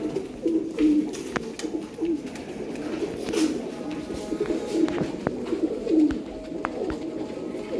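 Pigeons kept for sale coo in repeated soft, throaty phrases, close and steady over a faint background hum, with no talking.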